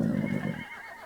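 A horse gives a single short whinny, close and fairly loud, lasting just over half a second before trailing off into quiet.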